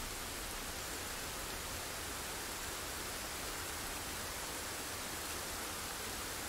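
Rain in the video game Jusant pours as a dense, even hiss that holds at a constant level, with no voices.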